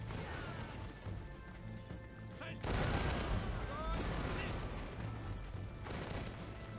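Musket volleys in the Napoleonic-era strategy game Imperial Glory: dense, overlapping crackling gunfire and crashing battle noise rolling continuously, with sharper bursts swelling at moments over a steady din.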